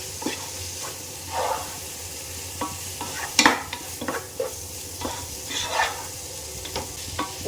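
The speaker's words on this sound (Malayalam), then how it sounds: "ഇനി ഇതിലേക്ക് നമുക്ക് കുറച്ച് പുതിനയില കുറച്ച് മല്ലിയില ചേർത്ത് നന്നായിട്ട് മിക്സ് ചെയ്തെടുക്കാം" Mint and coriander leaves being stirred into frying beef biryani masala in a pan, with a soft steady sizzle and occasional scraping strokes of a spoon, close by and with no talking.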